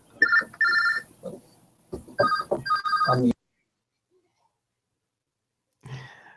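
A cell phone ringtone plays in short repeated bursts, loud and close, with a brief breath or sigh afterward and then silence.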